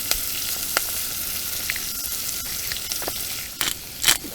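Onions fry and sizzle in a pan during a carp fishing trip in Czechia. The crackle is close and steady, with a few sharper pops and spits, and no talking over it.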